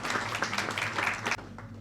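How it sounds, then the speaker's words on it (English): An audience at an academic panel discussion gives a brief round of applause, dense clapping that stops suddenly after a second or so, with a little room noise. "So a big round of applause for them as well."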